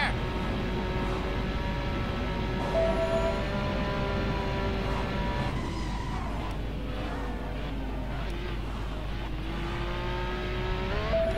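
A car engine races in the Driver San Francisco video game, a steady, droning roar with shifting pitch as it revs and shifts through gears, continuous for the whole stretch.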